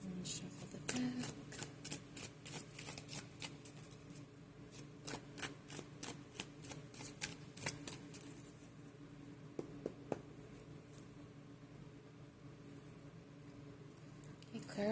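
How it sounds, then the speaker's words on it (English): A deck of Arcane Tarot cards is shuffled close up in quick, soft riffling bursts over several seconds, fading to quieter handling and a few light taps. "Let me shuffle the deck."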